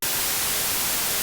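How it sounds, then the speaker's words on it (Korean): Steady white noise test signal, a constant even hiss across the whole range, loud and unbroken for about a second, with no voices. "지금 이런 화이트 노이즈를 띄워놨는데 모든 주파수 레벨이 동일한 게 결국 화이트 노이즈입니다"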